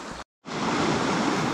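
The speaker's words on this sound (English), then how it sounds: "Crazy how fast that river's flowing." A fast-flowing river beside Wastwater in the Lake District, a loud, steady rushing roar close by, broken only by a brief dropout near the start.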